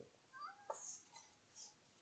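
A pet cat meows faintly indoors, several short high mews spread over a couple of seconds against a quiet background.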